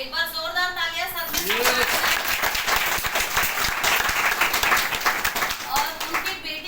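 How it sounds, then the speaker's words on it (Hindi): An audience at a special session bursts into loud, sustained applause, a dense wash of many hands clapping that holds for several seconds, with a voice speaking just before it starts and again as it fades. "एक बार जोरदार तालियां"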